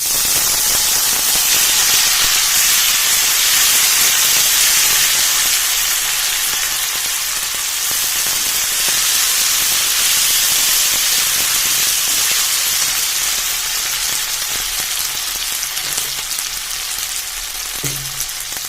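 Powdered spice masala fries in a hot pan for a lauki chana curry, giving a loud, continuous sizzling hiss that runs throughout with faint stirring scrapes.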